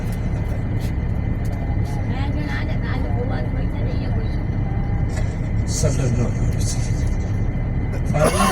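Car coasting in neutral down the Wadi-e-Jinn slope near Madinah, a steady low road rumble and tire drone running continuously throughout, with cabin noise and a voice speaking over it.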